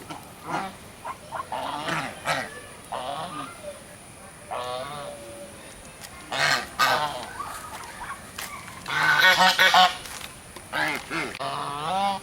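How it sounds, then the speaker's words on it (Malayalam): Birds in a park give loud, repeated honking, goose-like calls in irregular bursts, some close and harsh, with quieter calls and rustling between them. "എല്ലാത്തരം പക്ഷിമൃ പക്ഷികളും ഉണ്ട്"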